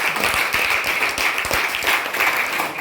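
Audience applause at a farewell gathering for a teacher transferred after 17 years of service, a dense, steady wash of many hands clapping that lasts the whole stretch at a loud, even level.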